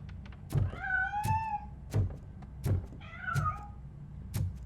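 A cat in the video game Robocop: Rogue City meows twice, drawn-out and tonal, between sharp heavy mechanical thuds that repeat at a steady rhythm.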